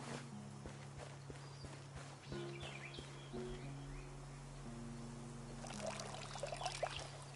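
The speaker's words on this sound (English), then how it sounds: "I need to water." Crops being watered in the farming game Hokko Life: soft pouring and trickling water with light footstep-like taps over steady game background music, quiet and continuous, with a brighter splash near the end.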